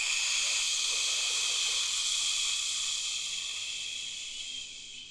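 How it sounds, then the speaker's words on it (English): A steady, breathy shh hiss from a long exhale during a yoga Sphinx pose, close and continuous, slowly fading toward the end with no talking. "take a deep breath and go shh"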